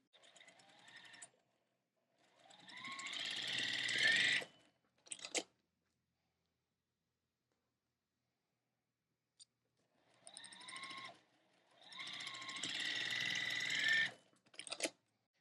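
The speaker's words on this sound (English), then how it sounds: "then I'm going to sew the next corner on" Sewing machine stitching across the corner of a quilt block, two separate runs of steady close motor whir that rise and hold for a couple of seconds, each ending in a few quick stitches, with silence between.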